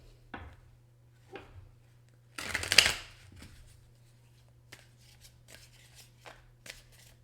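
Romance Angels oracle cards are shuffled in a brief, close riffle, framed by a few soft taps and rubs of handling cards in an otherwise quiet room.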